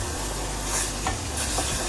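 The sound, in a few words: scraping the bottom of a hot pan while making beef stew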